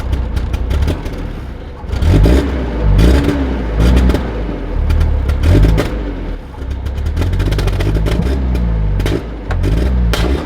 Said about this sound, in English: I'm misfiring